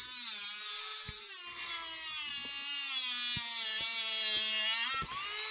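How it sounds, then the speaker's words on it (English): A high-pitched rotary tool with a cutoff wheel whines steadily while cutting bolts to length, with faint light knocks under the drone and a brief dip near the end, with no voices. "So I'm just going to use that rotary tool with a cutoff wheel."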